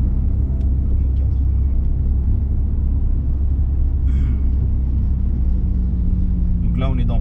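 A car moves through dense Paris traffic in the 12th arrondissement, with a loud, steady low engine and road rumble filling the cabin while people talk briefly inside.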